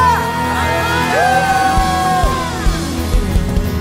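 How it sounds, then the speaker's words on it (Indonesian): A church congregation at a Christmas Eve service cheers and whoops, a loud crowd of overlapping yells and rising shouts with music underneath. "Berikan sorak-sorai terbaik untuk Tuhan kita"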